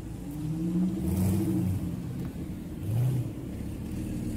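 A McLaren SLR supercar drives past among other supercars in Indonesia, its engine a steady loud roar that swells twice as it passes close by, with no talk over it.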